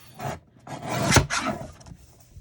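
A paper spring greeting card has its bottom edge trimmed in two or three short, close rasping strokes, the middle one loudest, with no talk.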